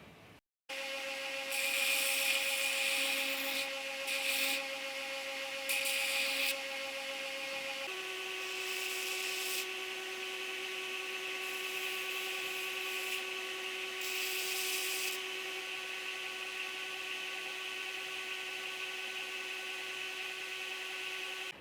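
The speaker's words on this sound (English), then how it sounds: "I like to hunk off a lot of that material just using the largest contact wheel I have" A belt grinder runs a large contact wheel against knife steel while a Bowie blade is shaped, giving a steady, loud whine with sustained tonal lines and bursts of hissing abrasion as the steel is pressed in, continuing without pause.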